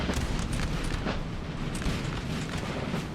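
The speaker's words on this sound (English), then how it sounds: "We'll see whether those artillery pieces can do any more damage." Artillery fires in a Napoleon Total War battle at Borodino: a dense, continuous rumble of distant booms rolls without pause under the wider battlefield din.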